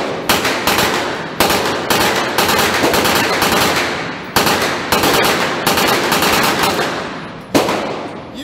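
Gunshots at a Texas shooting range, loud close sharp cracks fired in rapid strings and bursts with brief gaps between volleys, dominating the scene.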